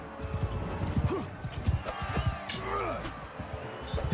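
Horse hooves clip-clop in rapid rhythm during a Mount & Blade 2: Bannerlord battle, close and continuous, mixed with whinnies, clashes and someone talking over them.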